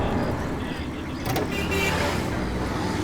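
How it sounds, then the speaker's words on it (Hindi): A car drives fast nearby, a steady engine and road rumble that swells slightly in the middle, with a faint voice in the background. "ये इतनी तेज कार कौन चला रहा है?"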